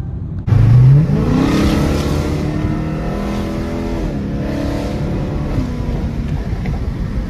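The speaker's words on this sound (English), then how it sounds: "car so fucking loud" A loud car engine roars to life and revs up sharply, then settles into a steady, heavy idle rumble close by.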